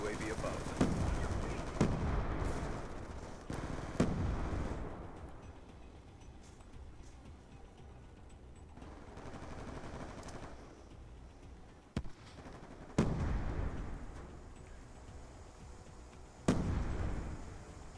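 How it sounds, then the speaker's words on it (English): A submachine gun fires in an online match of the video game Black Ops II, loud, rapid bursts recurring every few seconds amid sharp game effects and background ambience. "This thing's a submachine gun."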